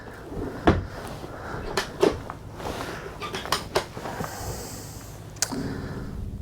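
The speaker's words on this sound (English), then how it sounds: "top drawer has all your bits and pieces" A drawer in the galley of an aluminium Allures 45.9 sailing yacht is pulled open and pushed shut, a few soft wooden knocks and slides close by, ending with a longer rumbling slide and thud.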